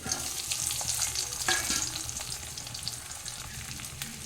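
Dried red chilies, shallots and garlic frying in hot oil in a pan for a vegetable thokku, giving a steady, close sizzle with a few crackling pops and no talking.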